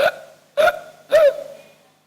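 A human voice imitates hiccups: three short, sharp vocal hic sounds in an uneven rhythm, close and fairly loud, the last one trailing off longer.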